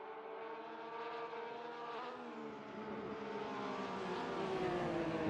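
A Porsche 991 Cup race car at full throttle around Road Atlanta, its engine holding a steady, loud, rising whine with clear harmonic tones climbing slowly as it accelerates, with no voices over it.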